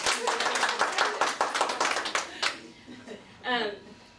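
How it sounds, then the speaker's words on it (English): Audience applause at a motivational speaking event, a burst of hand claps for about two and a half seconds that fades into scattered claps and a brief voice near the end. "So will you agree with me by applause?"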